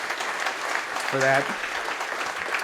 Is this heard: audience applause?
yes